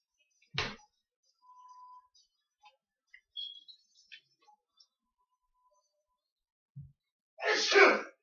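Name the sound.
sneeze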